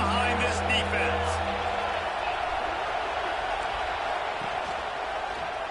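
Football stadium crowd at an LSU versus Ole Miss game roars steadily behind the defense on a big third down, a dense, sustained wash of cheering with faint claps and whoops and no clear break.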